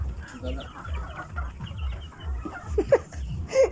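A native chicken clucking in low, repeated pulses close by, with a few sharper calls near the end and people talking over it.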